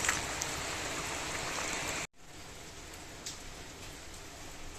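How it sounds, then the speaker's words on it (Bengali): Heavy rain pours outside, a dense steady hiss of falling water that drops out briefly and resumes slightly softer. "বাইরে তো প্রচণ্ড বৃষ্টি হচ্ছে"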